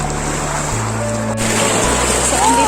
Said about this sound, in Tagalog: Grabe ang agos ng tubig dito guys.